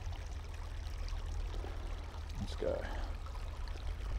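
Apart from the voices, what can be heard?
small creek flowing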